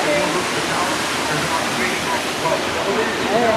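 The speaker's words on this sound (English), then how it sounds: "So they built this waterfall over here to the right." Artificial waterfall pouring into a pond, a steady broadband rush of flowing water that stays continuous and fairly loud throughout.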